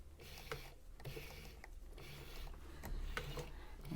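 Sewing machine running steadily after oiling, a quiet mechanical whir with soft repeating clicks and rattles from its moving parts, faint and continuous with no speech.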